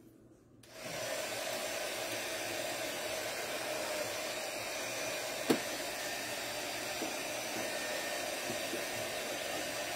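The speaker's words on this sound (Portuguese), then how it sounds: "Essa secagem pode ser com secador," A hair dryer blows steadily to dry a paper-decorated box, switching on just under a second in and then running at an even, close, loud whoosh throughout, with a single small knock partway through.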